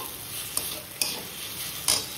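Steady close sizzle of tomatoes frying in a pan for vegetarian biryani, with a few soft scraping stirs of a utensil at intervals.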